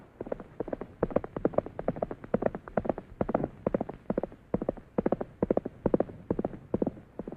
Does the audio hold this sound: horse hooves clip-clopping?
yes